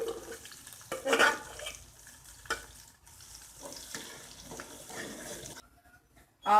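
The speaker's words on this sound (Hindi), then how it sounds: "आपने इसके अंदर वक्फे वक्फे से चम्मच हिलाते जाना है क्योंकि हम इसको भून रहे हैं" Ground chana dal roasting in a pan over low heat, stirred with a spoon now and then, giving a soft, intermittent sizzle with a few louder scraping strokes and brief quiet gaps.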